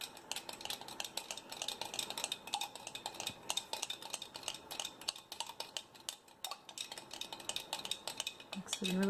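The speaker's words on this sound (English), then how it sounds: "I'm going to give it a stir." Cold process soap mixture being stirred, a steady run of quick light clinks and scrapes against the container throughout, close and clear, with no talking.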